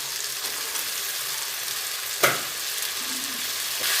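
Malabar spinach (pui shak) hits hot oil in a pan for a Bengali chhyachra, giving a steady close sizzle with a sudden clatter and stir midway, then the frying hiss carries on alone.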